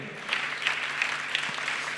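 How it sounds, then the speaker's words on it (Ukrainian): Applause from an audience at a Pro-Am dance show fills the hall in a fairly faint, steady wash of many clapping hands with a few sharper claps rising above it. "Ще, ще, ще, ще і ще ваші оплески"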